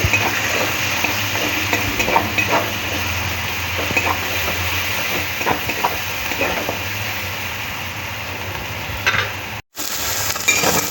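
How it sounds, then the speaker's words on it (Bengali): Two medium sliced onions fry in oil for an aar fish curry, with a continuous sizzle and light stirring clinks from a utensil against the pan, broken by a brief gap near the end. "একই তেলের মধ্যে কেটে রাখা দুখানা মাঝারি সাইজের পেঁয়াজ পেঁয়াজটা দিয়ে একটু গোল্ডেন করে ভেজে নিতে হবে"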